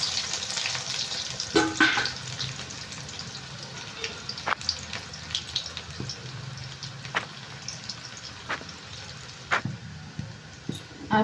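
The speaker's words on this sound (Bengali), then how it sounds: "পেঁয়াজটা হালকা করে ভাজা হয়ে গেছে" Onions and green chillies fry in oil in a pan, a continuous soft sizzle with periodic sharp scrapes and taps of a spatula, close by, while cooking mutton curry.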